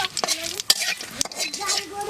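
Dried red chillies, whole cumin and bay leaf tempering in hot oil for a quail egg curry, a soft crackling sizzle broken by a few sharp stirring scrapes and clinks of a spoon on the pan.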